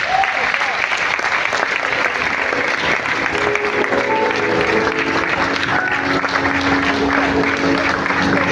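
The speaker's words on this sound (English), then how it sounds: "Please give the applause going." Audience applause at a real estate development lecture in Nigeria, sustained dense clapping from a large crowd throughout, loud and even with a voice faintly audible underneath.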